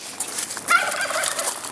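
Fowl calls, most likely a turkey gobbling rather than a chicken clucking, come in short warbling bursts over a noisy outdoor background, moderately loud and close, with no talking during them.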